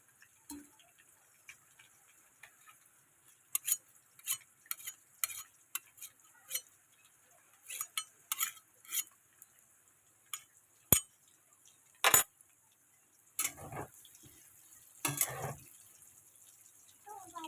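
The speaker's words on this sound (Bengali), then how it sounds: "এই যে আলুটা আমার হালকা করে ভাজা হয়ে গেছে, এবার আমি এটাকে একটা করে তুলে নিচ্ছি।" Lightly fried potatoes are lifted one by one from a frying pan, giving quiet, intermittent clinks and scrapes of a utensil against the pan over a faint sizzle, with a couple of sharper knocks later on.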